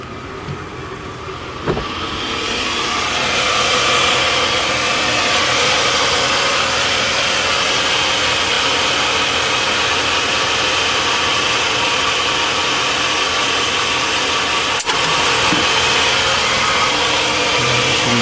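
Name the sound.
car engine idling during alternator test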